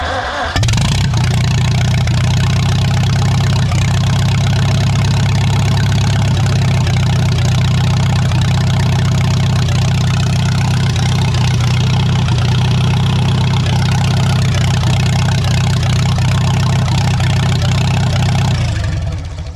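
A restored 1947 Farmall H tractor engine starts and runs loud and close, a steady deep rumbling idle that holds for nearly twenty seconds before shutting off.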